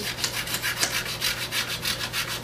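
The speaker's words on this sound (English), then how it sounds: "a light sanding like that until it is kind of a matte color" Sandpaper lightly sanding tire lettering to a matte finish, rubbing back and forth in a steady rhythm, a soft rasping swish repeating up close with a low hum beneath.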